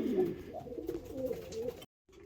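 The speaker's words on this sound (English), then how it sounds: "He's a bit of a funny one, but he's a beautiful pigeon." A pigeon cock bird coos close by in a steady, low, rolling burble that lasts about two seconds, then cuts to sudden silence before a faint hum returns.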